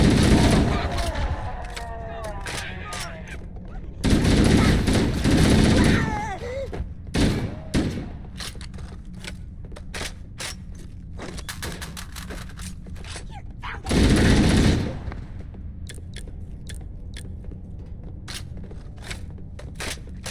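Bursts of automatic gunfire in Halo: Combat Evolved, loud volleys at intervals separated by quieter stretches of sharp clicks and impacts, with voices speaking over the game sounds.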